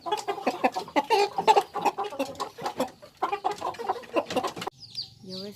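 Young fighting-breed chickens clucking in a coop, a busy run of close, loud clucks and chattering calls in quick bursts, pausing briefly near the end.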